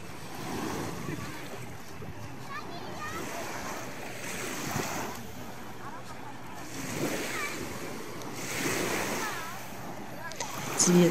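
Sea waves at Nissi Beach, Ayia Napa, in April surge and wash in slow repeated swells, mixed with wind buffeting the microphone and a voice talking over the surf.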